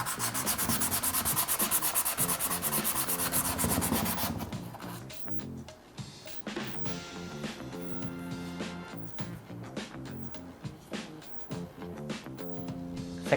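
A bicycle brake disc is sanded by hand, starting with a dense, continuous rubbing scrape, then breaking into shorter, rhythmic strokes, close and fairly quiet.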